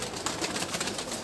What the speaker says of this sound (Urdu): یہ بٹ صاحب کا بہت اچھا کبوتر اڈیا